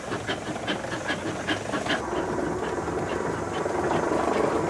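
Steady rhythmic chuffing from a steam locomotive's exhaust stack, with hissing steam and a low mechanical rumble throughout.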